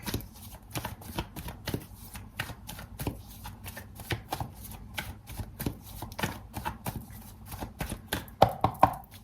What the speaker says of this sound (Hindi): ये जो डेक है हम शफल कर लेते हैं